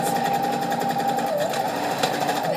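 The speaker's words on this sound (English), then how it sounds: "I am trying to stitch more towards the back of the fabric again" Sewing machine running steadily as it stitches elastic onto fabric, a continuous close whirring hum with fast rhythmic needle pulses throughout, no voices.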